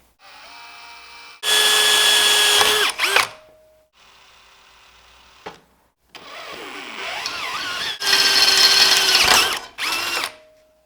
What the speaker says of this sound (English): Whenever possible, I always use a pilot bit and some good cutting fluid when drilling.